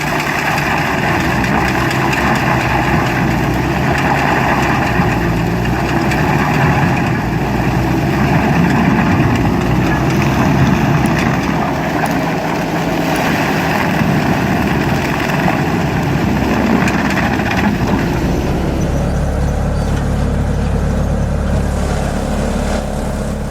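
A Woodsman 440 wood chipper engine running at close range, a loud, steady droning rumble with a constant mechanical texture that holds unchanged for over twenty seconds, shifting slightly in tone near the end, with no talk.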